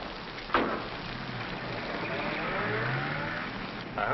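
Rain falls steadily around a car on a wet night, a continuous hiss with a low engine hum beneath and a brief sharp knock near the start, heard in an old film soundtrack.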